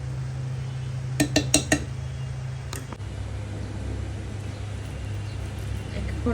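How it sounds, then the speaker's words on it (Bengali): Chicken biryani, finished with ghee, is served onto a plate with a few sharp metal clinks of a spoon against the dish in a quick cluster, then another pair of clinks, over a steady background hum. "এখন একটা প্লেটে সার্ভ করে বিরিয়ানিগুলো এখন সার্ভ করে নিচ্ছি।"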